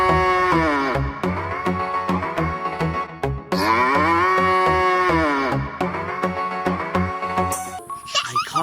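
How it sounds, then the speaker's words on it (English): A cow moos loudly and repeatedly, the long, deep, drawn-out calls falling in a steady rhythm with brief gaps between them. "Oh ho, this one is a cow."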